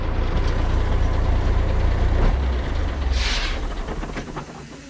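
An MTZ tractor fitted with a dual-circuit air brake system rumbles loudly at idle, and a sharp hiss of released air bursts through midway, close and alone with no talking.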